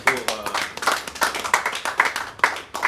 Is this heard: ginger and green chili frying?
no